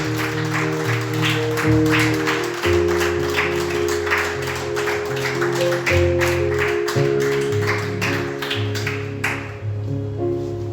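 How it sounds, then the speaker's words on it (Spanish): A church congregation claps steadily in praise, dense rhythmic applause over sustained organ or keyboard chords, continuing for several seconds before fading near the end. "Denle un aplauso al Señor, iglesia"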